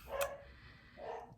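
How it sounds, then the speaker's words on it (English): Dogs bark at a distance indoors, one sharp yip followed after a pause by a softer, muffled bark, faint against a quiet room. "Oh, there goes the dogs."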